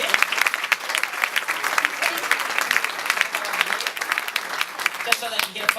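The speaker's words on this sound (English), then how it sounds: "A big round of applause for all of them." A museum awards audience applauds the finalists, dense sustained clapping from a full room with no break, close and loud throughout.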